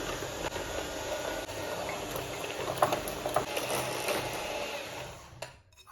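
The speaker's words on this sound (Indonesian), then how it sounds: "Pertama-tama ini kita kocok dulu sebentar ya." An electric mixer whirs continuously as it beats two egg yolks in a home kitchen, a steady close buzzing drone that cuts off near the end.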